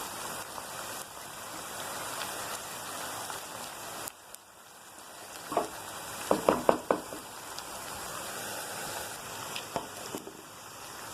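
Ginger paste, garlic paste and green chili sautéing in a pan for fish biryani, a continuous hissing sizzle with a burst of clattering stirring scrapes near the middle, close and without voices.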